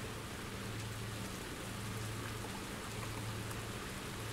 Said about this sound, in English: Usually, it's easier to catch fish in the rain.